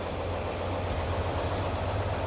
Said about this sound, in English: Gee, that truck is a little bit loud.